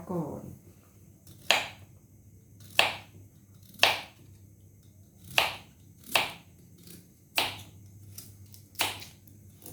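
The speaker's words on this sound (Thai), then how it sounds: "ต่อไปนี้เราจะเริ่มหั่นผักแล้วนะคะ" A knife chops vegetables such as daikon radish and cabbage on a cutting board for Thai mixed-vegetable soup. About eight crisp, separate cuts land roughly a second apart over a quiet background, close and clear.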